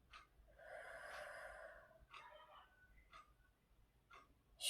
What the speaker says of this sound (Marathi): श्वास थांबवा आणि तोंडाने श्वास सोडा